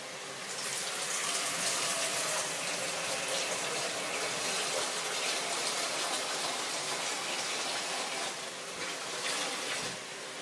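Water gushes steadily from a kitchen tap into a pot being filled for boiling, a loud continuous rushing stream lasting about ten seconds with little change, no talk over it.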